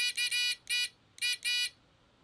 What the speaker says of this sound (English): If I press this button, the buzzer should sound.